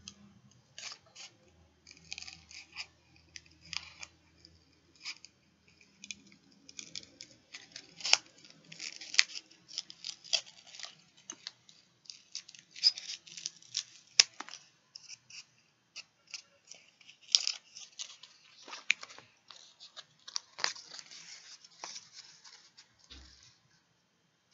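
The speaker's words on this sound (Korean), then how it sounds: "저는 그냥 가위로 잘릴게요" Scissors snip through felt for a panda craft, a long run of quick, close, crisp cuts and rustles at an uneven pace with short pauses, fairly quiet and with no talking.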